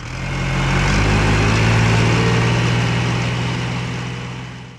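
A Case 580CK backhoe's diesel engine idles loudly at close range with a steady low drone and no speech.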